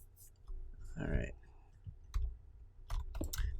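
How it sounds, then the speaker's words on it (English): Mouse clicks from a Minecraft building session, sharp isolated taps scattered across the moment at close range, with a short stretch of talking in between. "sorry if the clicking is extra annoying"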